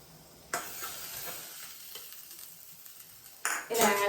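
Cooked dal for gongura pappu is poured onto a sizzling tempering, giving a sharp burst of frying near the start that settles into a soft hiss, then a second loud sizzle and stirring near the end, with no voices.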